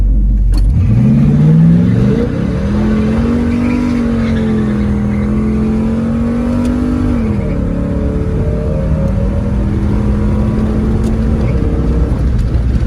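A 1967 Pontiac GTO's V8 revs up and accelerates, shifting into higher gears with rising then settling engine pitch, a steady loud close rumble with no talking.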